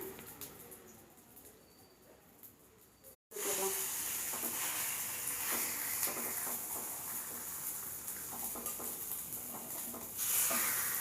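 Omelet paniyaram batter frying over a medium flame in a paniyaram pan, giving a steady hiss and sizzle that starts abruptly after a brief quiet moment and then continues evenly and fairly close.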